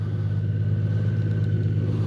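Honda Gold Wing motorcycle engine running on a downhill slope during a reverse-gear test, a steady low rumbling idle held close and even throughout, with no voices.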